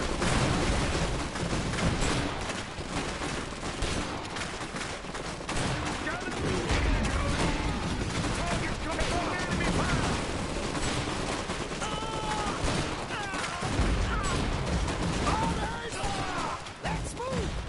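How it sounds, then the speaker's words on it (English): Continuous heavy gunfire and explosions in the video game Iron Harvest 1920, dense rattling volleys and crashes that stay loud throughout with voices shouting over the battle. "We're taking fire!"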